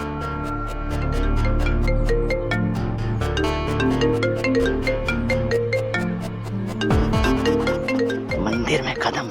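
A phone ringtone plays a loud, rhythmic electronic melody continuously at a temple, with a brief voice near the end.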